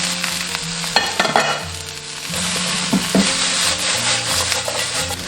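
Dried chilies, Sichuan peppercorns and bean paste stir-fry in hot oil for dry-fried crucian carp, a dense continuous sizzle broken by scraping strokes of a spatula against the wok.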